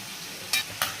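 A spoon scrapes twice through a cauliflower and egg curry simmering in a pan, two short distinct stirs over a quiet steady sizzle.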